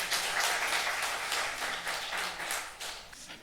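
Congregation at a Korean mission church service applauding, a busy, fairly close wash of many hands clapping that swells and eases slightly over a few seconds.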